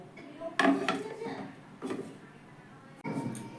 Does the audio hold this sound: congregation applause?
no